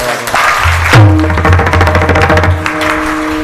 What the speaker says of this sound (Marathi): ते लेकरासाठी जोरदार टाळ्या वाजवा